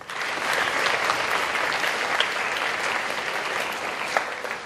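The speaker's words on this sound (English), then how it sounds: "Can we please give our debaters a round of applause?" A school assembly audience applauds its debaters, a long, even round of clapping from a large group that swells in quickly and holds at a steady level, with occasional sharper claps poking through.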